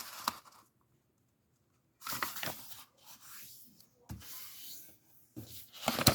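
Square paper being folded diagonally for an origami flapping bird makes soft, close rustles, scrapes and crinkles in short bursts separated by silent gaps.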